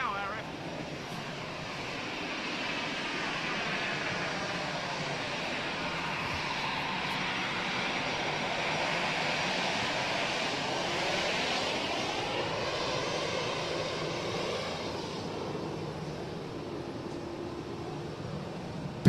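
An Aurigny ATR72-500 turboprop aircraft engine at London Gatwick Airport holds a steady, broad roar that swells gradually toward the middle and fades slightly, heard from a distance with someone talking over it.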